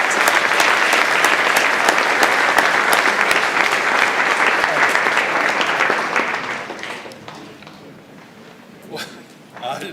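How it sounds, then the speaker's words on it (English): A large audience applauds loudly and steadily after a spirituals performance, the clapping thinning out and fading near the end with a brief final burst. "Another round of applause for the Spirituals"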